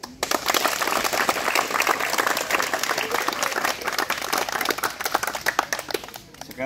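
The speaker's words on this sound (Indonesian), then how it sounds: "Tepuk tangan." Loud, dense hand clapping from a group of students at a marching drill practice, a sustained burst of many hands that holds steady for several seconds before tapering off.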